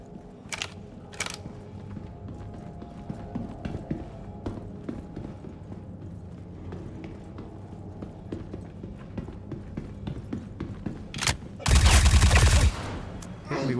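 Gunfire in the video game Star Citizen, with sparse scattered shots through a busy game soundscape and a loud sustained burst of rapid fire near the end, while a voice talks at points.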